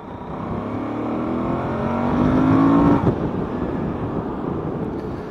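A 2019 Suzuki V-Strom motorcycle with only 300 miles accelerates on a test ride, its engine note climbing steadily for about three seconds before a gear change drops the pitch, with wind rush throughout.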